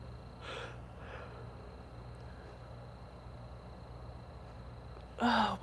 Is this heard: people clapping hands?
no